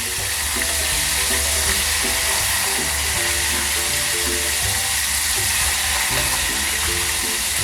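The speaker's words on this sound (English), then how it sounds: "And fry the pieces on the other side as well." Chicken pieces for homemade popcorn chicken frying in hot oil, a steady, dense sizzle with bubbling crackle holding at an even level throughout, with no voices.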